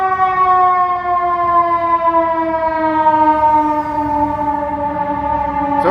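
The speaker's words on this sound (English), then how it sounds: "There's an ambulance going by." An ambulance siren sounds on a Chicago street near the Daley Plaza farmers market, loud and close with a steady wail whose pitch sags slightly as it passes.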